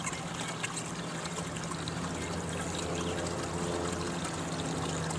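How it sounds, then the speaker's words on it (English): Water rushes fast and steadily through a gold recovery sluice, a continuous close trickling flow with no voices. "you're going to want to see the water's flowing much faster than on most of the recovery or small sluices"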